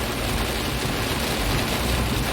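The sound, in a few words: heavy rain at Palembang airport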